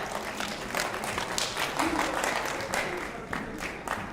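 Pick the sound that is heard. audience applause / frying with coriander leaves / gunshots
audience applause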